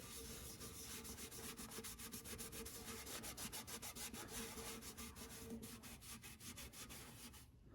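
Cloth rubbing old grease off a vintage metal oil can, a steady close scrubbing with quick regular strokes that runs continuously and alone, with no voices.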